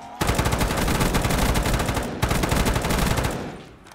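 Rapid bursts of gunfire from a shotgun in BO3 Custom Zombies, a dense run of loud, closely spaced shots, a brief break just past two seconds, then another burst that tails off near the end.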